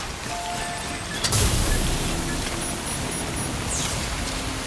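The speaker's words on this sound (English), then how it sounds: "I don't think this rain's gonna stop." Rain pours in a steady hiss in the video game Death Stranding, with a brief louder rumble early on and faint electronic tones over the constant downpour.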